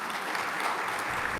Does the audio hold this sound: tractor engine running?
no